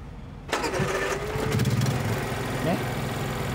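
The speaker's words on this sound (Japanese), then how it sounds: "エンジンかけますよ" A long-haul truck engine cranks and catches after a brief pause, then settles into a rough, rumbling idle close by.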